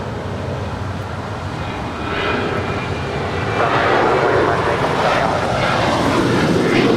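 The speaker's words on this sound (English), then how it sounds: "United 1276 off to Cancun. It is an 8-year-old 737-900ER." A United Boeing 737-900ER, eight years old, departs LAX with a broad, steady jet roar that swells louder and stays strong throughout, heard from a distance without other sounds on top.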